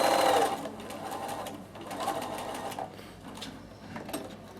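A sewing machine runs in short, steady bursts while topstitching down the side of a fabric handle, its quiet whirring pausing briefly between runs.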